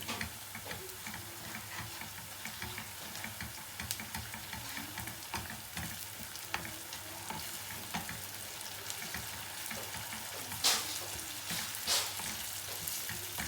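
Steady sizzling of tomato paste frying in a pan over low heat, with occasional light clicks and stirring taps; continuous and close, no voices.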